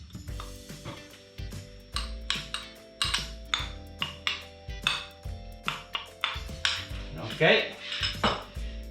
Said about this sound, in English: Get a spoon and just mix it. Mix it nice and well.